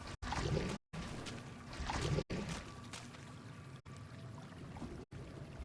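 Splashing, sloshing water from wading through a river in the video game Fallout New Vegas, a steady moderately loud wash with a few brief cuts to silence.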